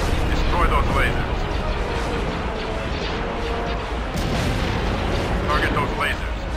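Heavy starship weaponry firing in a Star Wars Empire at War space battle, a continuous roar of blaster shots and explosions, loud and layered, with faint chatter under the din.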